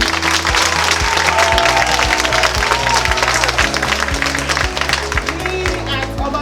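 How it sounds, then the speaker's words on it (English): An audience at an International Women's Day celebration claps in a loud, evenly paced rhythm, sharp hand claps repeating through the whole stretch alongside crowd noise. "And we applaud the women."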